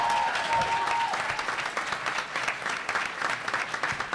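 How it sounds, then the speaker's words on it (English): Steady audience applause rises at a Minneapolis mayoral debate forum, a broad clapping crowd that holds fairly even for several seconds. "how about a big round of applause for our moderator, Dr. Nakima Levy-Pounds"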